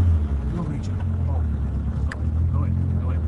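A rally car arrives at the finish area, its engine a steady low drone under a commentator talking over the public address, with wind buffeting the microphone.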